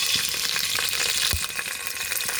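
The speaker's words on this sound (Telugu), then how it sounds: "ఫస్ట్ ఆవాలు వేస్తున్నా" Mustard seeds hit hot oil in a kadai with a loud, close sizzle, and scattered sharp pops and crackles from the seeds burst through the hiss.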